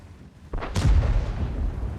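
A heavy tank gun fires once in World of Tanks, giving a loud, close, deep boom that rolls out and lingers into a rumbling tail.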